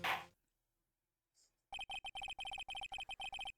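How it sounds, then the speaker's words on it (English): A mobile phone rings in a courtroom scene from the Phoenix Wright: Ace Attorney game, giving a rapid repeating electronic ringtone in short bursts after a brief pause, loud and close with no talk over it. "my phone went off"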